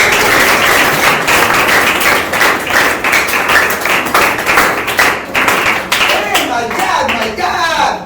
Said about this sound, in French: Ah, Philadelphie, applaudissez.